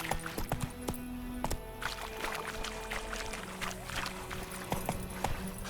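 A horse's hooves clip-clop in The Witcher 3, trotting at a steady, even rhythm close by over a watery outdoor ambience.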